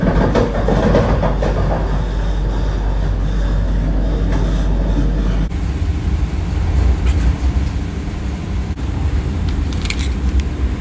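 A Vande Bharat express train rumbles at speed, heard from inside as a loud, continuous roar of wheels and rail noise with a low steady drone, rattles and faint clicks, without talking.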